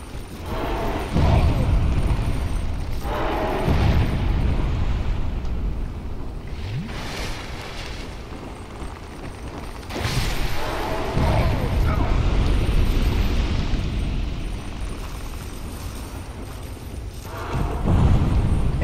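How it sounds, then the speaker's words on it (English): Explosions from a final boss in a video game: several heavy broadband blasts at irregular intervals, each swelling over a continuous rumbling, creaking mechanical game soundscape. "Keep exploding away from me"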